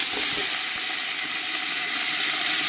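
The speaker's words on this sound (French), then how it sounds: "On va verser environ 2 décilitres d'huile d'olive et on va faire revenir tous nos poissons." Fish and aromatic vegetables frying in about two decilitres of olive oil for a bouillabaisse, giving a steady, close sizzle and hiss that continues evenly throughout with no talking.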